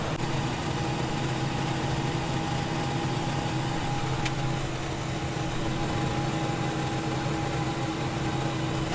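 A Ford F-150 engine runs at a steady idle during a 10R80 transmission service, giving a continuous low hum with an even drone and no voices.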